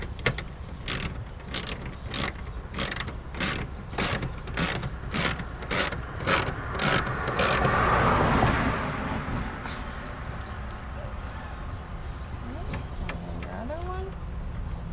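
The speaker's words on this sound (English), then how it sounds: "Take your wrench, you move it on the other way." A ratcheting wrench turns a bolt on a plate frame in quick, evenly spaced clicks that end partway through. Quieter mechanical handling and clatter follow, and someone talks at times.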